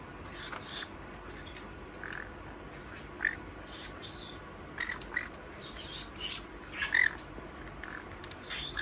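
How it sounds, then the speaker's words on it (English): A conure parrot lets out short, high squeals and squawks at irregular intervals against a steady background hiss, fairly close and loud, with no voices. "Squealing is a more commonly used sound when your conure is relaxed or excited."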